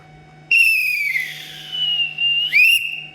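A whistle is blown in a long shrill tone that bends and sags in pitch, then gives a shorter rising blast, loud and close with no talking over it.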